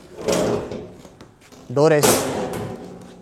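The metal door of a hydraulic wool press machine shuts with a single nearby thud, with people talking before and after it.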